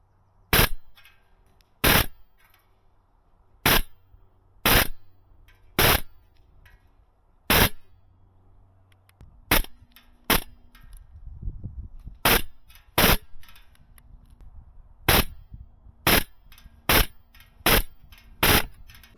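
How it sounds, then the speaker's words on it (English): GunsModify HK416A5 MWS gas airsoft rifle running propane at 1 joule fires quick three- to four-round bursts of 0.4 g BBs, each string of sharp cracks followed by bright metallic dings off steel targets, separated by brief pauses. "doing that quick dat burst, 3 or 4 round burst, and you get those satisfying dings off those metal targets"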